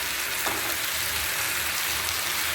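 Mutton sautés in a pan as coriander powder goes in, giving a steady, close, even sizzle and crackle of hot oil that continues without pause and with no talking.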